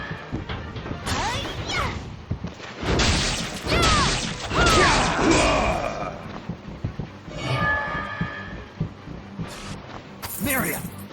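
A train in the video game Bloodstained rumbles and clatters amid crashing combat hits and metallic impacts, with a horn-like tone sounding near the end; a voice talks over parts of it.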